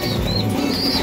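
Pigeons arriving at a loft flap their wings in a brief, close flurry, with faint chirps over steady background noise.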